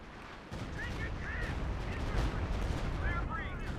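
In Company of Heroes 2, a Stuka dive bomber strike lands as a dense spread of booming blasts and crackling impacts. The rumble swells and holds loud, with faint whistling streaks above and a commentator speaking throughout.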